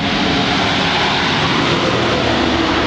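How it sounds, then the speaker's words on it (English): Loud, steady roar of passing road traffic dominates an outdoor spot, a continuous broadband rumble with no breaks and no voices. "Sorry about the traffic noise."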